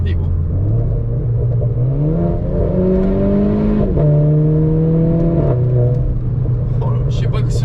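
A Trophy car with a new exhaust line, one silencer removed, revs close by with a loud, raspy rumble that climbs in pitch, holds, drops and rises again, while people talk.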